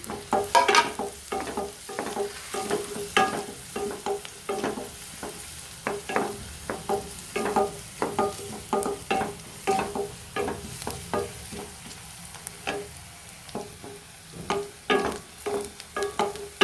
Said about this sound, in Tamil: கூடவே ஒரு கொத்து கருவேப்பிலையும் சேர்த்துக்குவோம்.